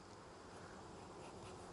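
Dense, steady buzzing of many honeybees at an open hive during inspection, close and continuous with no pauses, forming a thick humming drone throughout.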